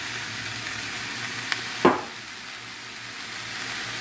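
Steady sizzling of scallions frying in a skillet, with a couple of brief clatters partway through.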